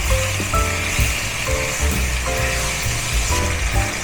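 Squid and tomatoes sizzle in a pan with steady close frying and a rhythmic scrape of stirring, a loud continuous hiss throughout.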